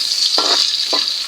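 Onions and meat sauté loudly in a hot pan for pakbet, a strong steady sizzle broken by two quick stirring scrapes, close up with no voices.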